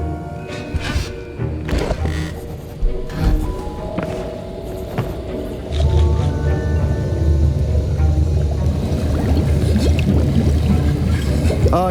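A potion is stirred in a cauldron in Hogwarts Legacy, a loud continuous sloshing, bubbling liquid swirl that swells midway and keeps churning steadily to the end.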